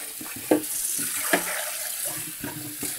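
Water pours into the reservoir of an automatic coffee machine during descaling, a steady splashing trickle with a few clunks and knocks as the tank is handled.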